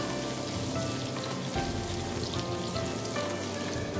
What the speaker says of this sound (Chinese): 起锅加油，下入五花肉煸炒